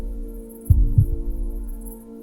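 A heartbeat sound effect in an animated short gives two deep, soft thumps in a lub-dub pattern over a low steady hum, close and clear without speech.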